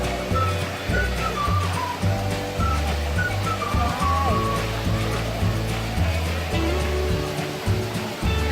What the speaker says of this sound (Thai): ตอนนี้อยู่ที่น้ำตกปางสีดาอุทยานแห่งชาติจังหวัดสระแก้ว